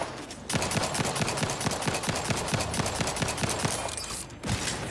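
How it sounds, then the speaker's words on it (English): Pistol gunfire in a video game, a rapid, steady string of roughly twenty close, crisp shots fired in quick succession, broken by a short pause near the end. "This pistol's crushing it!"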